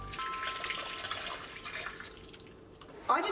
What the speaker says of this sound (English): And add more water.